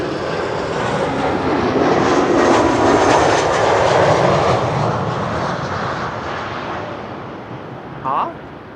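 An Embraer 190 jet landing at Schiphol's Kaagbaan runway gives a loud, broad engine roar that swells past its peak near the middle and slowly fades, with a short burst of voice near the end.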